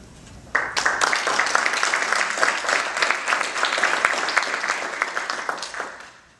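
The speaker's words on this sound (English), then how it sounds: "please give both a warm round of applause." An audience at a school board candidates' closing-statements event bursts into warm applause, a dense sustained clapping that starts abruptly and holds steady before tapering slightly.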